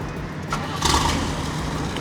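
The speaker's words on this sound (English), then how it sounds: "Fires right up, which is impressive for a big block." A 1973 Corvette Stingray's big-block engine cranks briefly and catches, settling into a low steady rumble.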